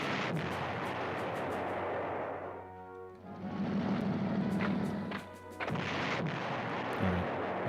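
Artillery fire in the PlayStation 1 wargame Panzer General: loud, dense rumbling booms and blasts rolling almost continuously, with brief dips and swells and sharp crackling impacts, no talking.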